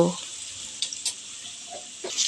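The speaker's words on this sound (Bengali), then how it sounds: "তেজপাতাটা দেওয়ার পর একটু ভেজে নেব" Bay leaves fry in hot oil for a lentil dal with rohu fish head and tail, giving a close, steady sizzling hiss with a few brief crackles and stirring sounds.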